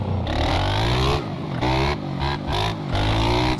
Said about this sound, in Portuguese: Só acelerando, Pavel, sem usar a embreagem